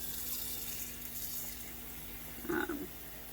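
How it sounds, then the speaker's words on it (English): Water running from a tap to fill a container, a steady faint trickle with a brief louder gush near the end, no voices. "Filling up the water."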